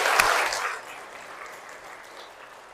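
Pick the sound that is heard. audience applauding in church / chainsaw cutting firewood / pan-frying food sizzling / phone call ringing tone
audience applauding in church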